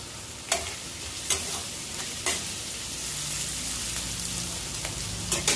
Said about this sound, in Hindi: हल्का सुनहरा होने तक फ्राई करेंगे